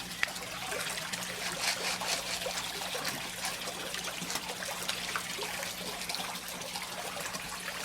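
Water trickles and splashes steadily from a makeshift five-gallon bucket filter fed by a 2100-gallon power pump into a fish tank, a continuous close babble with no talking.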